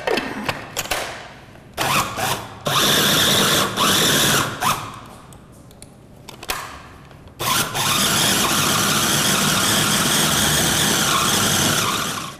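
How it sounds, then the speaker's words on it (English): A blender whirs through dates to make date paste, starting in short loud pulses with quiet gaps, then running in one long steady roar to the end, close up with no voices. "And then you're ready to blend it all up."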